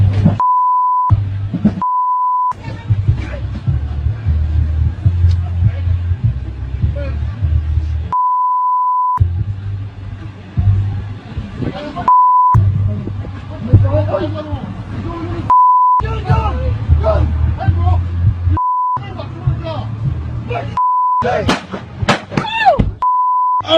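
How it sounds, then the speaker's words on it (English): Repeated steady censor beeps cut across shouting and chaotic sounds in police footage of a man being held down and shot in Baton Rouge, Louisiana. About eight beeps come at irregular intervals, loud and mixed in with raised voices. "all that beeping you hear is obviously we're deleting the F-bombs that kept on coming out"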